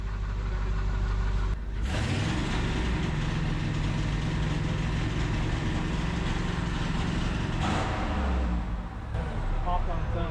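An LS-swapped OBS truck engine idles steadily and fairly loud throughout, a continuous low rumble with people talking nearby.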